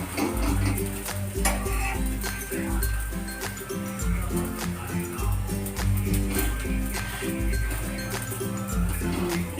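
A semolina yogurt paratha frying in a pan, with a soft continuous sizzle and occasional clinks of the utensil, heard close, with background music playing alongside.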